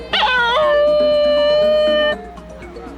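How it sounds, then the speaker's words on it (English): A Basenji dog gives a cheerful greeting yodel, a loud, close, wavering howl-like tone that rises, holds and then breaks off after about two seconds. "the most charming is a cheerful yodel used in greeting"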